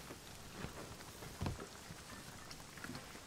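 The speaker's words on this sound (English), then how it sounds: "Why has it been raining this long?" Steady rain from the video game Rust, a soft continuous patter with no voices, holding even throughout with one slightly louder spot partway through.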